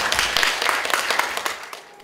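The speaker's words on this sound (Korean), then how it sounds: "뜨거운 박수로 맞이해 주시기 바랍니다" Audience applause welcoming a lecturer at a humanities lecture on the painter Namnong Heo Geon, a dense burst of many hands clapping in a hall that fades out near the end.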